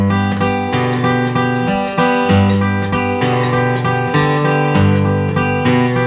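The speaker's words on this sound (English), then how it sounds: "another way to approach this bass pattern and add a cool layer of finger picking into it" Fingerpicked New Orleans blues riff on guitar, steady thumb bass notes alternating with picked upper strings in a bouncing, even rhythm, played close and clear with no talking.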